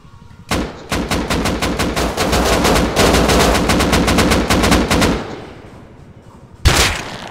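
Rapid automatic gunfire from raiders in the survival game Rust, loud and close, sustained bursts of sharp repeated shots for several seconds, a brief lull, then another short burst.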